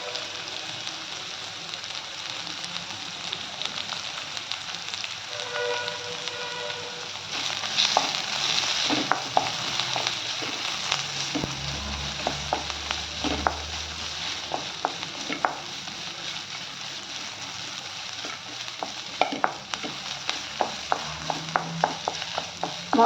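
Onions frying in oil with curry leaves for Maharashtra-style poha, a steady close sizzle with occasional stirring scrapes and clicks throughout, no talk.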